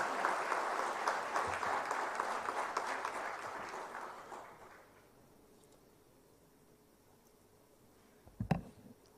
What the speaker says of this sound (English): Ladies and gentlemen, please give a huge round of applause for Dr.